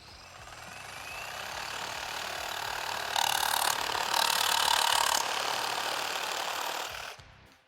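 Milwaukee Sawzall reciprocating saw cutting through timber with screws in it, a continuous buzzing, rattling drone that swells in intensity partway through and then winds down and stops.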